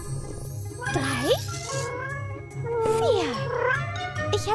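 Several farm cats meow in rising and falling calls, two clear drawn-out meows standing out, close and fairly loud over a steady low hum.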